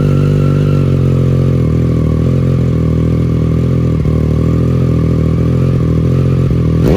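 A 2020 Triumph Street Triple RS fitted with a Yoshimura Alpha T slip-on exhaust, running loud and close with a steady deep idle and rising revs, engine tone holding throughout with no talk.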